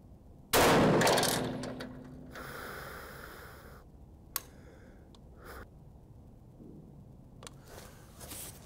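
A single loud gunshot from a firearm being test fired on a range, with a ringing decay, followed by quiet handling noises and a couple of faint metallic clicks.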